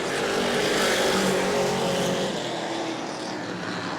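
A race car in the LKQ Superstock 50 at New Smyrna roars past on the final lap, a loud engine howl that swells and then fades as it pulls away, with no talk over it.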